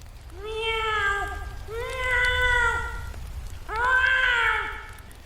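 A voice moans and meows like a cat, imitating it in three drawn-out, wavering calls separated by brief pauses, loud and close over a low rumbling background.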